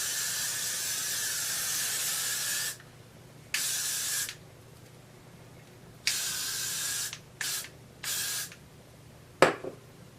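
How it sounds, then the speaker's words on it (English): Got2b Glued Blasting Freeze hairspray is sprayed close to the microphone. A long steady hiss is followed by several shorter bursts of varying length, ending with a sharp click. "I'm going to use the Got To Be Glued Blasting Freeze Spray"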